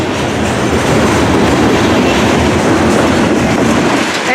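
A freight train hauled by three D&H locomotives rolls past close by at Rocky Mount, North Carolina, a loud, steady rumble with rhythmic clickety-clack of wheels and faint squeal, continuous throughout.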